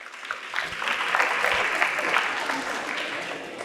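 Audience applause on a quiz show, a short burst of clapping that swells and then fades over a few seconds, with light voices underneath.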